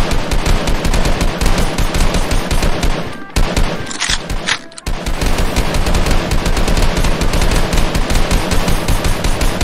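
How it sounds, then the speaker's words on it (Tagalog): Relentless rapid-fire gunfire in a dramatized fight against aswang creatures, loud dense bursts of automatic shots rattling on with a brief pause midway before resuming just as intensely. "wala ding patid ang kanilang pagpapaputok ng baril sa mga ito"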